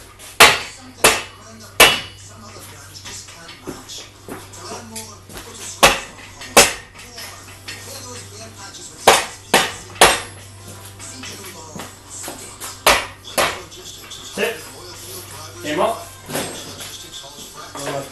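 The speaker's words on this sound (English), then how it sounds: "I'm going to take the griddle off, like I showed you earlier" Someone removes the griddle from a 420a performance engine during a build. The sound is a series of sharp metallic knocks and clanks at irregular intervals over a low steady hum, with someone talking intermittently.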